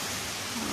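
Steady rain falling around an outdoor barbecue in a village on a rainy day, a dense even hiss of drops lasting the whole moment with no voices.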